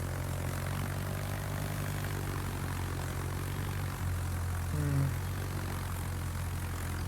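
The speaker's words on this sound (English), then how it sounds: "I might have used torpedo bombers here." Steady propeller aircraft engine drone from carrier torpedo bombers in the naval battle game World of Warships, a continuous low hum with a brief pitch shift partway through, holding at even loudness throughout.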